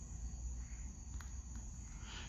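Crickets chirping outdoors at night near woods, a faint steady high trill running continuously beneath a low rumble of background noise, with no voices.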